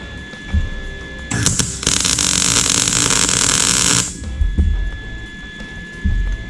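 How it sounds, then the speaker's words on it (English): Tack welding a hook onto a steel excavator bucket: a loud, close, crackling arc hiss flares up and holds steady for about three seconds before cutting off, with a faint electrical hum running underneath throughout. "Alright, I'm welding again."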